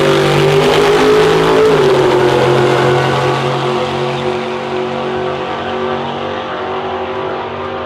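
Drag racing cars launching and accelerating down a quarter-mile strip, a loud engine roar climbing in pitch through the gears and then fading gradually as the cars pull away.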